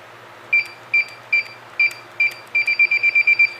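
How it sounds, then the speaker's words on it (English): A device emits short high electronic beeps, five evenly spaced single presses followed by a quick run of rapid beeps, clear and close. "anytime you press a button, you both hear the beep and you see the lights light up"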